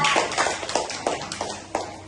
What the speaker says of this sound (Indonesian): terima kasih tepuk tangan untuk kalian